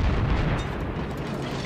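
Warship guns fire in a World of Warships match: a dense, rumbling barrage of booms and blasts, heavy and continuous, with no talking.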